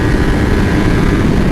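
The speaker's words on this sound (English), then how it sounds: "That's a fucking police helicopter." A police helicopter passes close overhead, its loud steady rotor and engine roar filling the air continuously without a break.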